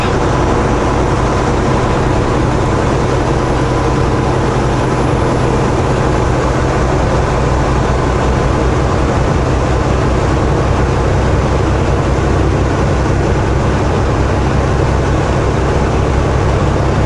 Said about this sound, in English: oh, there comes another water bomber taking off.